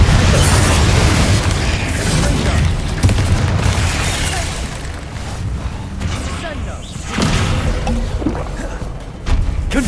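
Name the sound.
Confringo explosive spell blast in Hogwarts Legacy video game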